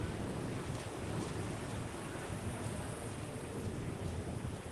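Wave pool at Typhoon Lagoon water park: a steady, broad wash of surging water and wind rumble, continuous and fairly loud, with no voices.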